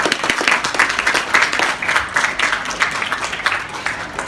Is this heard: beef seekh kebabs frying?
no